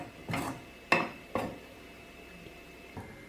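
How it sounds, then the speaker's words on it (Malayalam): A spoon stirs chicken upma in a pan to break up lumps, giving three distinct scraping clatters against the metal, close and moderately loud, with quiet pauses between them. "നമുക്ക് ഇളക്കി ആ കട്ടയെല്ലാം മാറ്റിയെടുക്കണം."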